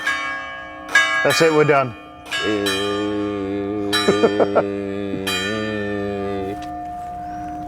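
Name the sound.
church bells ringing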